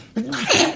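A single loud, close sneeze bursts out suddenly, a sharp voiced intake followed by a breathy expulsion, heard alone.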